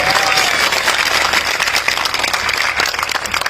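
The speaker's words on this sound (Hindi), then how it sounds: "ताली बजा दो जो लोग समझ गए" An audience at an Aam Aadmi Party election rally in Uttar Pradesh claps steadily and loudly throughout, a dense continuous applause with no pauses.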